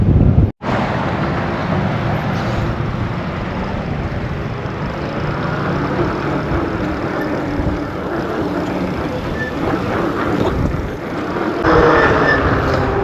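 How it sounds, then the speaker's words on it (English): Strong wind buffets the microphone while riding an e-bike ahead of an incoming storm, a steady loud roar that holds throughout. "It's windy, storm coming in."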